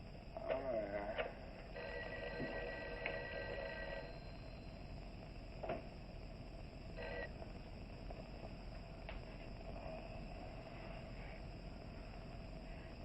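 A telephone rings unanswered inside an office building in a 1959 film, its electronic ring tone repeating in short bursts at moderate volume beneath a murmur of voices and room noise.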